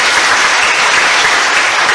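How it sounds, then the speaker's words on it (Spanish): Church congregation applauding for Mary, a loud, continuous wash of clapping at close range that stays even and full for the whole stretch. "Aplauso para María."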